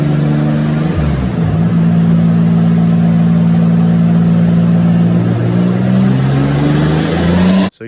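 Turbocharged Chevrolet Cavalier engine held at full throttle, a loud steady drone that climbs, levels off and hovers high for several seconds before cutting off abruptly at the end, with no talking.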